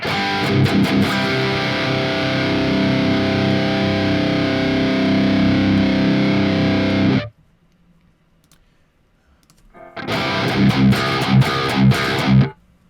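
Thick, heavily distorted high-gain electric guitar chords ring out loudly, break off into a brief near-silent pause, then the crunchy amp tone returns.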